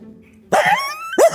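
A man imitates a dog, giving two short, loud bark-like yelps about half a second apart, with a faint low hum before them.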